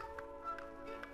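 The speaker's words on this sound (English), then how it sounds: "Hear them ticking?" Swiss clocks tick softly in a 1946 children's cartoon, a faint regular beat heard over a sustained musical tone, with no talking.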